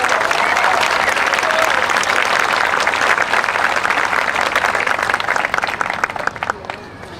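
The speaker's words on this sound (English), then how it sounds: "Go ahead, give them a round of applause." Audience applause at a community fair queen announcement, steady dense clapping from a crowd filling the room, tapering off toward the end.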